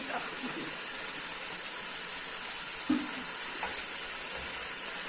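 Red chilies and two tablespoons of oil sizzle in a karahi pan for a Lahori mutton karahi, a steady close hiss of frying with a couple of soft knocks from the pan.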